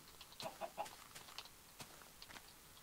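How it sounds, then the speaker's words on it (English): Soft clucks of a chicken in the Minecraft Tekkit video game, a few faint short calls clustered near the start amid quiet clicking game noise, no voices. "And then it went cluck, cluck, cluck, and I was like, oh, it could be a chicken."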